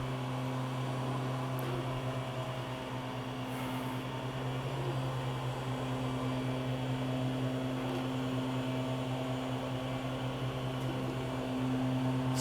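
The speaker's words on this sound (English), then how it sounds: "That noise you're hearing in the background is a leaf blower from the neighbor's landscaper." A neighbour's landscaper runs a leaf blower in the background, a steady droning hum with strong low tones that holds for the whole stretch, fairly loud and even, while a 3D printer upgrade is underway nearby.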